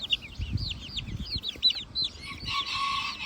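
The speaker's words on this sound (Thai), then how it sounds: "ชุดนี้จะเป็นลูกไก่ขากลางนะครับ" Many bantam chicks cheep in a busy, high-pitched chorus of rapid chirps, with soft shuffling and rustling underneath.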